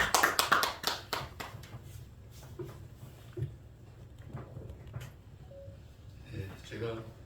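A church congregation claps to welcome a pastor at a thanksgiving service, a loud burst of applause at the start that thins into scattered taps, with voices murmuring beneath.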